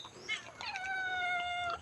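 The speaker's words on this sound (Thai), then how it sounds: "น้อง ข้าวหลามกับทองเข้มอยู่กัน2เหมียวเนาะ" A cat gives a drawn-out, rising-then-falling meow nearby, preceded by a short, softer chirp, fairly faint in a quiet setting.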